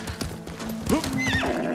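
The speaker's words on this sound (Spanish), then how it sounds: "veo que el caballo salta solo" A horse in the PS4 game Ghost of Tsushima whinnies loudly, its rising neigh standing out over a steady clatter of galloping hoofbeats and game background sound.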